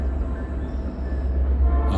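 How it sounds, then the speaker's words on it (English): A train passes in the background near a vegetable garden, a steady low rumble with rolling rail noise that holds for the whole stretch, no voices. "train going by. You can probably hear it in the background."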